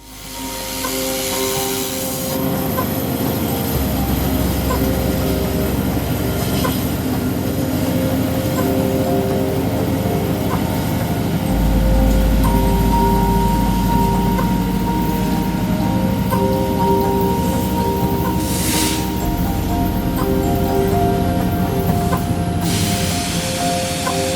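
A local freight train reverses through a rail yard, a steady low rumble of wagons and engine lasting throughout, with long hissing and a high whine overhead, continuous and fairly loud.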